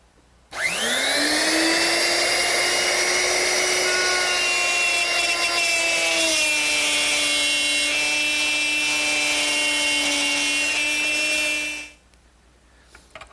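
A router with a straight cutter bit plows a stopped groove into a wooden candle stand piece, a loud close whine that spins up abruptly, holds steady with a slight drop in pitch midway, then cuts off and winds down.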